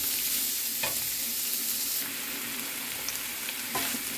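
Ground pork sautés in a hot pan for a picadillo, a steady broadband sizzle with a few brief stirring clinks and scrapes, close and continuous with no talking.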